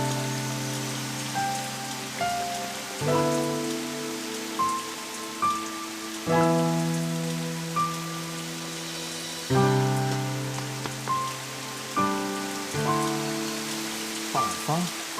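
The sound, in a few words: heavy rain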